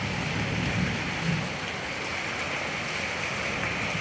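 Rain that has fallen for two days onto flooded ground around a house, a dense even hiss that stays steady and close for the whole stretch.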